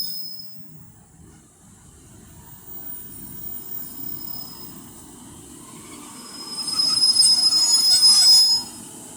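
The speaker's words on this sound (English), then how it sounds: "150-127's on the front of this, and it's going to stop where I am" Northern Class 150 diesel unit arriving and stopping at Castleton station, wheels squealing loudly on the rails as it brakes close by, rising to a peak before falling quiet.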